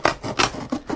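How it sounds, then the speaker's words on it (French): A serrated knife sawing through a Tetrapak carton, giving close, rough rasping strokes in a quick back-and-forth rhythm, about four short cuts in a second, with no voices. "on va couper ces deux parties avec un couteau cranté"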